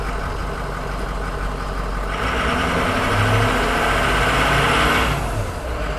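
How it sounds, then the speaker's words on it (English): A 2006 Ford E350 cargo van's 6.0L turbo diesel engine runs steadily close by, a continuous low rumble that grows louder and rougher midway before settling back. "Nothing quite like the sound of a diesel."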